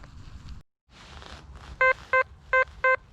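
A metal detector sounds four short, even electronic beeps in quick succession outdoors during a dig, following rustling and handling noise from the search.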